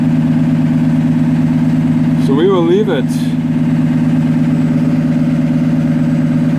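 A 2015 Cummins ISB diesel engine idles steadily during a parked regeneration, a loud, even low drone close to the microphone, with someone talking briefly over it.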